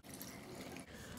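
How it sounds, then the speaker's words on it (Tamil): Water pours into a washed mixie grinder jar in a short, steady, soft splashing rush, heard alone. "இப்போ இந்த மிக்சி ஜாரையும் கழுவி கொஞ்சம் தண்ணி உள்ளே ஊற்றிக்கலாம்"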